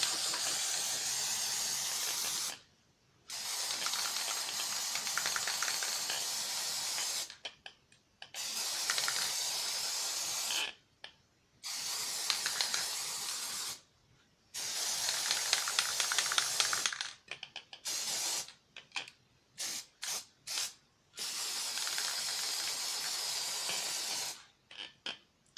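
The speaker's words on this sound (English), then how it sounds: "spray it all up." Glaze sprayed from an aerosol can onto an acrylic pour ornament: a series of close hissing bursts of varying length separated by short silences, several quick sprays toward the end.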